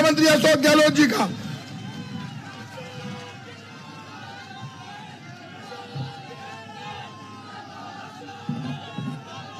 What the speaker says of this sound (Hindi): जोरदार ताली बजा के स्वागत करें राजस्थान के मुख्यमंत्री अशोक गहलोत जी का।